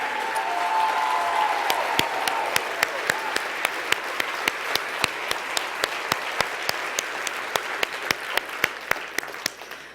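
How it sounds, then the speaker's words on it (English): A big audience at a leadership summit general session claps steadily, a thick continuous wash of applause with distinct sharp claps cutting through, holding level throughout before starting to thin slightly. "Give them a round of applause"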